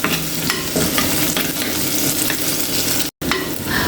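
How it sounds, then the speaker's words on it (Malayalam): Small shallots and green chilies sauté in hot oil in a pan for a Kerala-style vegetable lunch, giving a loud, continuous close-up sizzle with a momentary cut near the end. "ചെറിയ ഉള്ളി ഇടുന്നുണ്ട്, അതിലേക്ക് കുറച്ച് പച്ചമുളക് ഇട്ട് കൊടുക്കുന്നുണ്ട്. ഇതൊന്ന് നല്ലോണം നമ്മൾ മൂപ്പിച്ചെടുക്കാം."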